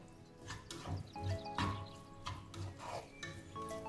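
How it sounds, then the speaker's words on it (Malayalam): Crumbled idiyappam being mixed with masala in a pan over low flame: soft scraping and rubbing strokes of a spatula against the pan, repeated in an uneven rhythm, close and quiet, with no talking. "ഇത് നന്നായിട്ട് മിക്സ് ചെയ്യാം."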